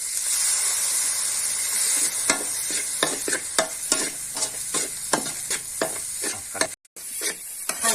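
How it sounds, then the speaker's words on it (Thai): Seasoning sauce goes into a sizzling Thai stir-fry, and a loud steady hiss of frying is broken by a series of sharp spatula scrapes and stirs close by. "ใส่ซอส ปรุงลงไปนะครับ ใส่ลงไปเลย"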